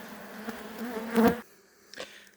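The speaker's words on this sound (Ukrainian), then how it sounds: "Нам необхідно зараз закривати швидко цього вулика і тікати звідси, бо трошки сім'я агресивна, трошки їх роздраконив" Agitated honeybees from an opened hive buzz close by, a droning hum that swells to a louder burst before cutting off, leaving a fainter buzz and a brief knock.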